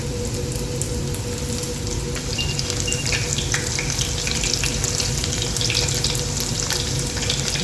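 Calamari rings deep frying in oil in a pot over medium heat give a steady, dense, close sizzle and crackle, with no voices.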